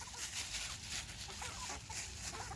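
Chickens clucking outdoors in a backyard flock, a steady string of soft, fairly faint clucks repeating over the ambient background with no talking.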